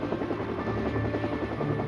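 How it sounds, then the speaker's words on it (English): Helicopter rigged with electronic surveillance gear, its steady rotor thrum and engine whine holding constant and fairly close for the whole stretch, with no talk over it. "They rigged a helicopter to carry more primitive electronic surveillance gear"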